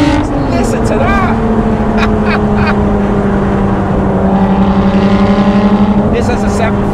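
Lotus Exige 390 engine droning loudly and close, holding a steady pitch with slight rises and falls, while someone talks over it throughout.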